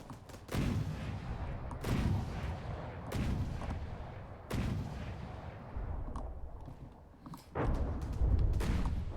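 Heavy naval guns firing in From the Depths, five or six deep booming shots spaced slowly a couple of seconds apart, each with a rolling rumble tail, loud and close with no talk.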